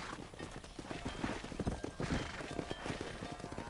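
Steady horse hooves clip-clop in a rhythmic gallop in the Red Dead Redemption video game on PS5, under a constant background wash of game ambience.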